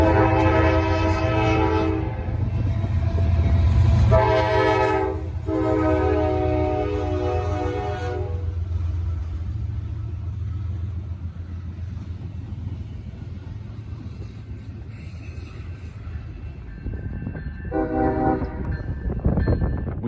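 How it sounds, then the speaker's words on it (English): A ballast train rumbles past on the Frankfurt line, sounding several loud horn blasts early on over the steady roll of railcars, then one last shorter blast near the end. "conductor Pool again on a ballast train taking the Frankfurt line"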